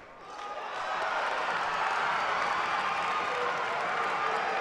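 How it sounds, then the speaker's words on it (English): Steel High fans at a girls basketball game send up a broad, loud crowd roar of cheering that swells within the first second and holds steady, filling the gym. "And you can hear Steel High cheering."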